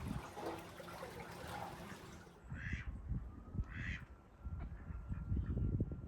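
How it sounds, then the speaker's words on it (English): Several short bursts of duck quacking on a canal, moderately close, over a steady outdoor background hum. "I do like the sound of ducks."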